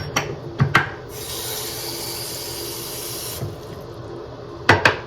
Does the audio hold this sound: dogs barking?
no